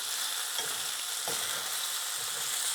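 Pork sizzles in a frying pan for taco filling, a dense, steady crackle that fills the clip, close and loud, with no voices.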